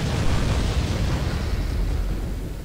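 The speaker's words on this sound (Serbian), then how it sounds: "divna eksplozija" Explosion in the PC shooter Return to Castle Wolfenstein, a radar station blown up: a loud, dense broadband roar and rumble that stays heavy for the whole moment and fades slightly at the end.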